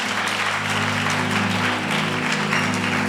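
A church congregation claps in sustained, dense applause, loud and close, with steady sustained musical tones humming beneath.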